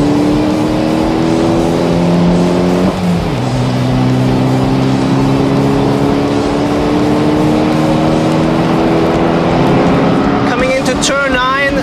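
A Mitsubishi Evo 10 race car engine runs at full throttle on a track, a loud sustained drone that rises in pitch, dips at a gear change and climbs again, with a voice briefly heard near the end.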